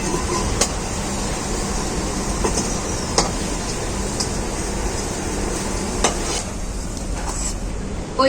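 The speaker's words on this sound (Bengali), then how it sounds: "তেলে আমি পেঁপেগুলো ভেজে নেব" A steady, dense sizzle of diced papaya frying in hot oil runs throughout, punctuated by occasional clicks and scrapes of stirring.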